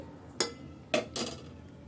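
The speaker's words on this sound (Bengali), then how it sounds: "এই ঢাকনা দিয়েই ঢেকে রেখে দেব ঠান্ডা হওয়া পর্যন্ত" A metal lid set onto a pot of freshly cooked rasmalai with the stove switched off, giving one sharp clank followed by a second settling clatter, close by and fairly quiet.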